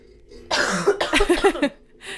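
A single person's cough bursts out abruptly, a short cluster of rough, throaty barks close to the mic, trailing off into quiet breathing.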